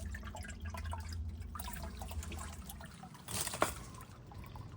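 Spring water trickles and drips steadily into a mason jar, with a brief louder splash near the end, against a low background rumble.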